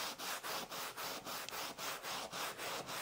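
A pad rubs leather prep back and forth over a leather surface, giving a steady rhythmic scrubbing of about a dozen strokes, close and fairly loud, with no voices.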